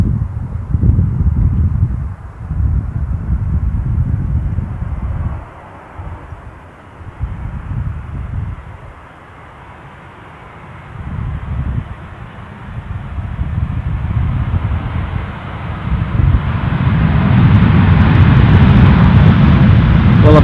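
A Boeing 787 Dreamliner at Amsterdam Schiphol Airport, a low, rumbling jet engine drone with wind buffeting that dips midway and then swells louder and brighter toward the end, with no voices.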